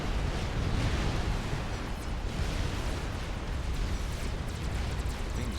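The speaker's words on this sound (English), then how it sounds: "Another failed bomb drop." Bomb drop explosions from experimental bombers in the Supreme Commander strategy game, heard as a steady, loud, broadband roaring rumble that continues without a break.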